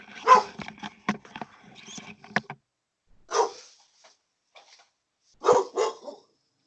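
A dog barks in several close, sharp bursts, first a quick run of barks and then a few spaced single ones with brief silences between.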